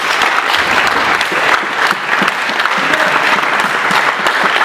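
A large congregation at a commemoration bursts into sustained, loud applause and acclaim for God, dense clapping with scattered cheers filling the whole stretch.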